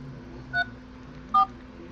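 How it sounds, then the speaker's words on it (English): A conference phone on speaker dials in, giving two short, separate keypad tones about a second apart over a low background hum, with nobody talking. "It's dialing in."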